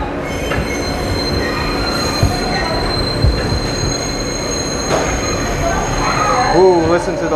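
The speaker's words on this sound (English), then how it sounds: "Ooh, listen to those subway squeals." New York City subway train at Coney Island, Stillwell Avenue, with loud high-pitched metallic wheel squeals rising and wavering over the rumble and clatter of the cars, growing stronger near the end.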